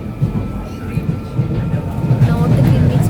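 A London train ride on a rainy day heading toward Greenwich: a loud, steady low rumble of a rail carriage in motion with rhythmic thumping, and a voice talking over it.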